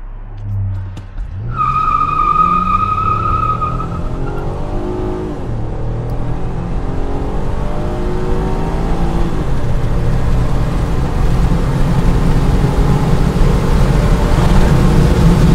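A Chevy Impala 3.6L engine starts with a brief squeal, then revs hard and accelerates steadily, its pitch climbing through several gear changes, loud and close.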